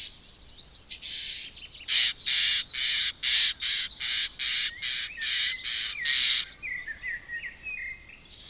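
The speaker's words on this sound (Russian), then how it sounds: "Растущие птенцы все время просят еды" Nestlings begging for food inside a tree hollow in the Volga delta, a run of about a dozen loud, rhythmic raspy squawking bursts, close and alone, followed by thinner chirps.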